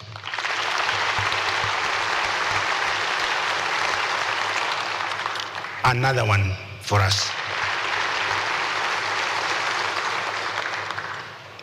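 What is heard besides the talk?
applause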